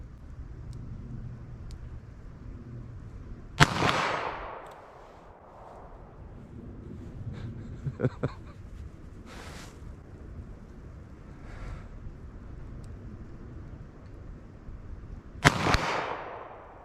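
A .22 Magnum revolver fires at a target, two sharp, loud shots about twelve seconds apart, with quieter handling noises between them and no talking.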